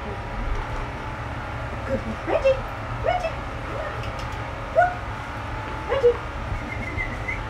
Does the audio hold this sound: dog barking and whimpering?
yes